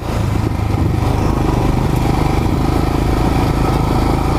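A Royal Enfield Himalayan motorcycle engine thrums steadily and loudly while riding, a dense continuous exhaust note heard close with no speech over it.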